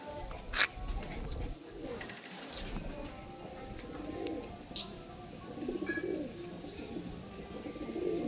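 Pigeons with distinctive eyes, kept for sale, cooing in soft, low, repeated murmurs that rise and fall over a faint background rustle.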